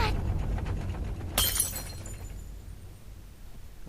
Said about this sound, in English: A vase that had been placed next to the couch came crashing to the ground, shattering into pieces.